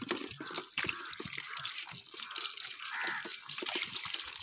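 Water runs and gurgles into a small bottle in a steady, bubbling pour with irregular splashy pulses, close and fairly loud.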